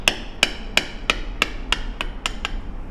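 A mallet strikes a leather stamping tool as it is walked along for texturing, giving nine evenly spaced, crisp taps about a third of a second apart, close and clear over a quiet background.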